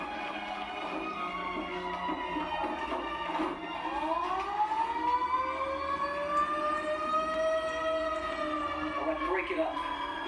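An ambulance siren wails during a street confrontation, a steady loud rising and falling tone that sustains for several seconds over crowd noise and voices.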